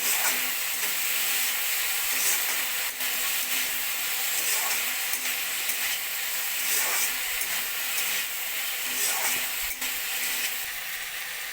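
Potatoes frying with salt and turmeric in a pan, giving a steady, even sizzle and hiss that holds without a break, with occasional faint clicks and stirring sounds.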